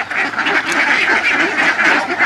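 Ducks on an enclosed netted duck farm quack loudly and continuously, a dense chorus of many birds close at hand.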